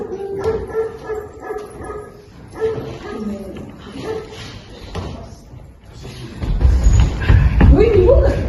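A dog barking in short yips and whimpers at close range, intermittent through the scene, mixed with people talking and a door slam near the end.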